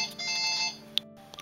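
A phone rings with a bright electronic trill in one short burst, then cuts off abruptly, leaving a quiet tail with a couple of faint clicks.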